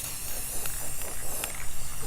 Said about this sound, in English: I'm just going to do a good spray, and I'm doing this outside because you don't want to be inside when you are spraying stuff like this